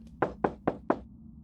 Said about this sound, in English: It sounds like someone is knocking.